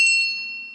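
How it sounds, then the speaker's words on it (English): A story bell rung at the start of a children's storytime, producing a single bright metallic ding with a sustained clear ringing tone that fades over under a second, heard alone and close. "First, let me ring the story bell."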